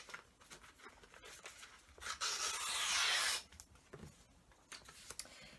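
Scissors cut through paper while strips are made for a Christmas paper chain garland, a brief loud rasping slice in the middle framed by faint snips and rustles, close and alone.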